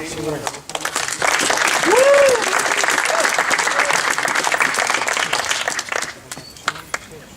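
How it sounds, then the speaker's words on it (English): An audience at a debate invitational final gives the finalists a sustained round of applause, dense clapping that swells quickly and holds steady for several seconds before tapering, with a voice briefly heard over it. "Let's give a round of applause for all 14."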